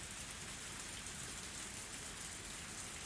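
Steady, even rain hisses throughout in a Higurashi visual novel scene, a dense continuous patter with no voices or other sounds.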